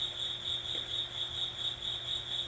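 Steady cricket chirping, a continuous high trill heard during a quiet guided meditation, alone with no talking and even in level throughout.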